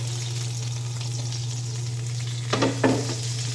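Salt-and-pepper seasoned food frying in hot oil gives a steady, close sizzle under a constant low hum, with two brief louder crackling bursts near the end.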